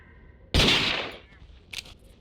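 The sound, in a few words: gunshot from Tundra Eagle rifle in video game Carnivores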